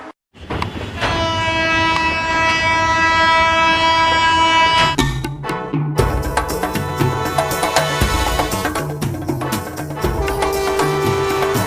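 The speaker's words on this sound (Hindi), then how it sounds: "देख ट्रेन आ गई" A train rumbles in along the tracks with a long steady horn blast, then loud rolling clatter of wagons and wheels, close and continuous.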